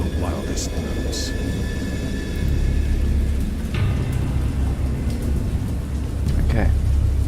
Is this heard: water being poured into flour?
no